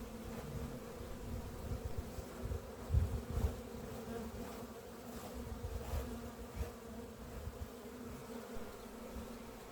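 Honeybees buzzing around an opened hive during cleaning, a steady faint droning hum with occasional louder passes of individual bees close by, no voices.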